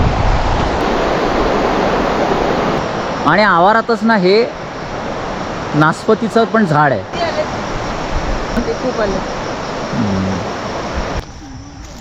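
Steady rushing water of a river in Sangti Valley, Arunachal Pradesh, fills the background throughout, with people talking over it in short bursts from the riverbank.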